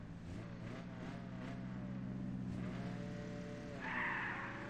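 A car's tires squeal and skid through a drift in the racing video game Apex Point, with a continuous engine drone under a wavering screech that swells near the end.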